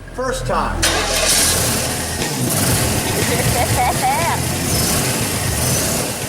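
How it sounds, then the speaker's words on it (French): Car engine in a custom-built Monster Garage surf vehicle cranking and firing up on the first try, then running loud and rough close by, with people talking and shouting over it. "Le moteur tourne à plein régime"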